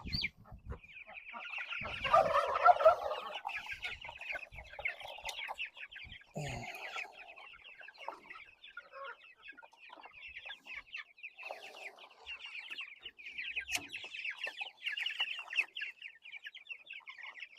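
Chickens cluck and chatter softly inside a coop converted from a rabbit hutch, with steady overlapping clucks throughout and a few louder squawks near the start, close by with no talk.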